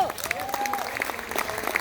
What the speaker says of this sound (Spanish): Un aplauso para todas las mujeres.